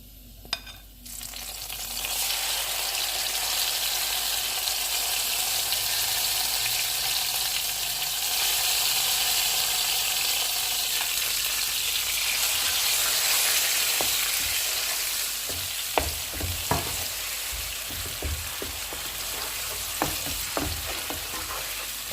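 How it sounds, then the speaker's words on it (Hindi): Spinach hits hot oil with golden-fried garlic in a pan, giving a loud, steady sizzle and crackle throughout, with occasional stirring clatter toward the end and no talking. "अभी लहसुन फ्राई हो गया, अब हम इसमें पालक डाल देते हैं"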